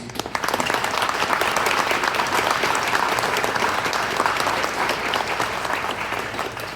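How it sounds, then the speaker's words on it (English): A graduating Master of Nursing class and guests give a steady round of applause, an even wash of many hands clapping at moderate volume that continues throughout. "just a quick round of applause for everybody, please"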